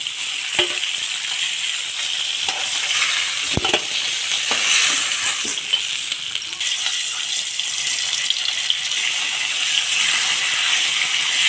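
Fish frying in hot oil, a steady bright sizzle with occasional sharp crackles and a few clinks of a utensil, close and continuous.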